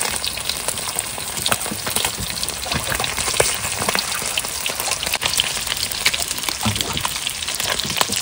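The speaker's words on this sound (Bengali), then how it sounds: "প্রথমবারের মাছ ভাজা হয়ে গেছে বন্ধুরা" Loud, dense crackling and hissing of kan magur catfish frying in hot oil, continuous throughout with sharp pops scattered across it.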